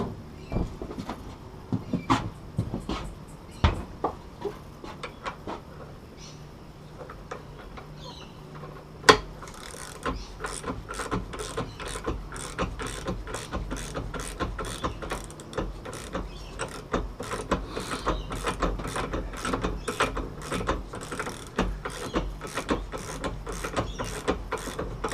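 A ratchet with a 32mm socket turning a nut on an outboard motor's steering bracket, a quiet run of sparse clicks that becomes a rapid, steady ratcheting chatter for most of the stretch, close and alone.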